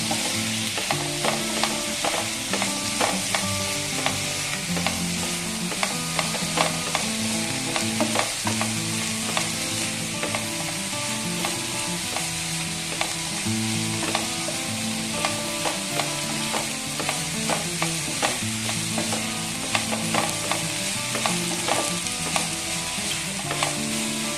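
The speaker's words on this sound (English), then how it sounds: "we'll fry the ginger garlic paste also very nicely along with the onions" Ginger garlic paste and onions fry in a pan, a steady dense sizzle under busy stirring, with frequent spoon scrapes and taps against the pan throughout and no voices.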